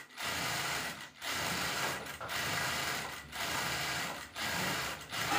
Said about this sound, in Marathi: मशीन फास्ट चालती आहे.